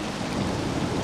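Rain and thunder on a dark London street in a video game, a dense hiss of steady rainfall over a low rolling rumble, loud and continuous through the brief moment with no voices.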